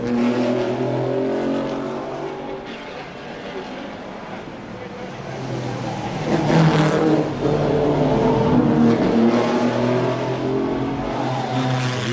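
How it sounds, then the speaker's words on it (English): Historic front-engine Grand Prix cars, among them several Maserati 250Fs, race through the Monaco streets in a 2004 historic event, their engines roaring continuously as they rev and pass, with a commentator talking over the noise. "In the pack, there are no less than 7 Maserati 250Fs, among which we find the number 10 of Thomas"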